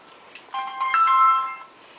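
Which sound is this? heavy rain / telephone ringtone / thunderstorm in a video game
telephone ringtone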